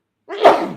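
A single loud, close sneeze bursts out abruptly after silence, a breathy explosive rush that trails off quickly.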